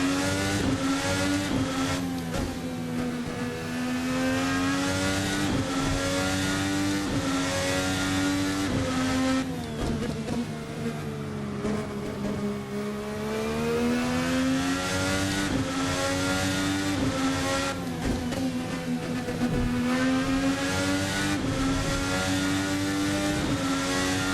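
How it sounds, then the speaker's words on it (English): A single-seater car in the VRC Formula NA racing sim revs hard and steadily, its engine pitch climbing and dropping through repeated gear changes for the whole stretch, loud and continuous with no talk. "nice sounds from the engine, nice gear change sound effects,"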